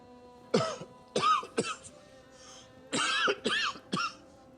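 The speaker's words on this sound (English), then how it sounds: "Cough. Cough." Several harsh coughs come in two bursts, three quick coughs, a short pause, then three more, close and loud.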